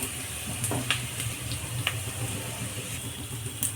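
Fresh green peas being lightly fried in a pan for a ghugni-style breakfast, giving a steady soft sizzle with occasional stirring clinks and scrapes of a utensil throughout.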